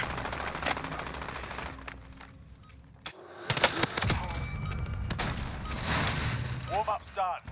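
Automatic machine gun fire in Call of Duty: Haunting of Verdansk, loud bursts of rapid shots and impacts over a steady game soundscape, with a voice talking throughout.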